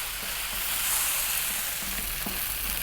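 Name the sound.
rice stir-frying on high heat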